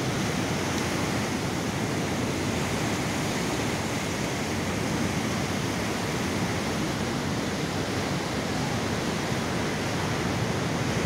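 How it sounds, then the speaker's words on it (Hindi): Loud, steady roar of rushing water pouring through a dam, a continuous broadband wash with no pauses, close and powerful throughout. "इतनी स्पीड से पानी आ रहा है"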